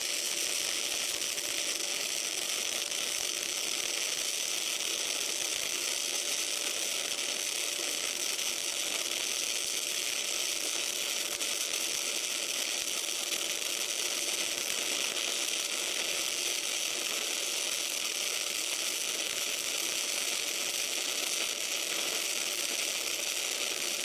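Flux core welding with a Harbor Freight Berger 135 amp multiprocess welder, a steady, continuous crackling hiss that runs unbroken and fairly loud throughout with no voices.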